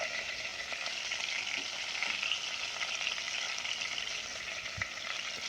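Chicken pieces frying in oil in a pot after browning golden on all sides, a steady close, dense sizzle running the whole time with a few small pops and no voices.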